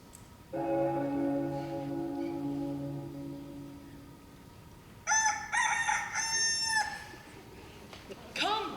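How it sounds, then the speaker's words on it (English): Stage sound effect of a rooster crowing in a high school Romeo and Juliet production: one long, loud crow, then a pause, then a series of bright, ringing bell-like tones. "The second cock hath crowed, the curfew bell hath rung."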